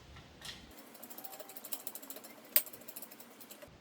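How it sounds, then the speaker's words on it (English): A hydraulic ram being jacked up during a go-kart upgrade, giving a steady run of quiet, rhythmic mechanical clicks with one sharper snap partway through. "it'll start jacking up this hydraulic ram"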